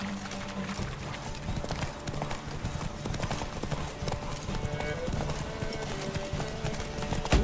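A horse gallops steadily in The Witcher 3, dense rapid hoofbeats running throughout at close range, a loud continuous drumming with no talk over it.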